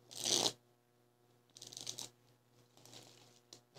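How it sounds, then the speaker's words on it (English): Tarot cards being shuffled for a reading, three soft riffling bursts with pauses between, close and quiet with no talk. "One last shuffle."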